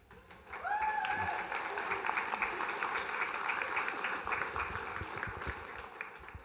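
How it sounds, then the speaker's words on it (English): Applause from the audience at an adult graduation ceremony swells quickly into broad, sustained clapping that fills the hall and then slowly thins, with a brief voice near the start. "Y'all are clapping now, just hold on."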